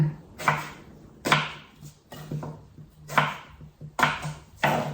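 A knife chops through a soft, young eggplant on a cutting board, five or six crisp cuts at an uneven pace, close and clear with no talking.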